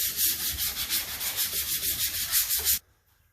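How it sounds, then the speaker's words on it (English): Fine 220-grit sandpaper rubbed by hand along the router-cut front edge of a board for an epoxy countertop, a steady rhythmic back-and-forth scratching at close range that stops abruptly near the end. "We just got done sanding, front edge, 220, nothing aggressive, just with our hand."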